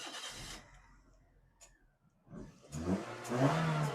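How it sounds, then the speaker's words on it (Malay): A first-model Perodua Myvi engine cranks and catches after a quiet pause, then settles into a steady running idle close by, just after some brief handling noises. "Lepas tu start kereta."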